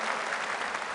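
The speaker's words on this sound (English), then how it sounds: "Give him a round of applause." An audience at a Reform UK party speech event in Birmingham applauds, a dense, steady wash of clapping from a large crowd filling the room.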